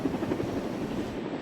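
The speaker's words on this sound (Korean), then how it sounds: "강릉 오봉저수지 상공에 헬기들이 줄지어 나타납니다." Helicopters flying in line over the drought-stricken Obong reservoir in Gangneung during a water-dropping operation, a steady loud rotor thump and engine drone filling the brief moment with no voices.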